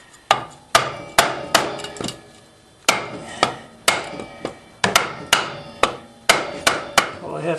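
Sharp wooden hammer strikes drive a block of wood over a Yamaha G1 golf cart axle, about fifteen loud, close blows in an uneven rhythm with short pauses, no talking.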